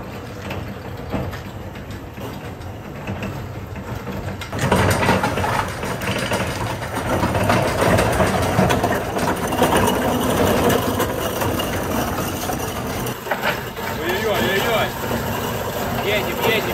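A vehicle engine runs steadily while driving, a continuous low drone that swells louder partway through, with a voice speaking over it at times.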